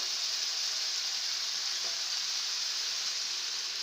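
Carrot and the white part of green onion sizzling in a pan for chicken fried rice, a steady, even hiss of frying that holds constant, with no voices.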